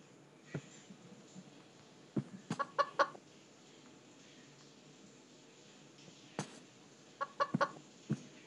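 Chickens cluck in the horror video game Evil Nun 2, in short clustered bursts of clucks scattered across a quiet, hissy background, moderately close and fairly faint.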